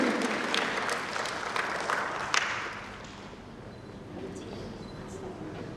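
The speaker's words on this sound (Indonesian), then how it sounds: "Kita kasih tepuk tangan dan aplaus paling meriah" An audience at a provincial government public-service event in East Nusa Tenggara breaks into loud, dense applause for about three seconds, then it thins out into the murmur of a large hall.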